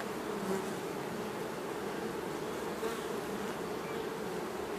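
Honeybees buzzing steadily around an opened beehive during an inspection, the hive heavy with nectar; a dense, continuous drone close by, with individual bees passing near.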